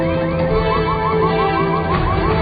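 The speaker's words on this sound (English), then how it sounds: "From the ruins comes a shrill symphony of car alarms" Loud, shrill car alarms wail together in a continuous, warbling electronic chorus, close and unbroken, amid the ruins of a collapsed building.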